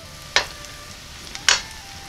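Boiled boneless pheasant meat crisping in butter in a pan, a soft continuous low sizzle punctuated by two sharp stirring scrapes, heard close with no talking.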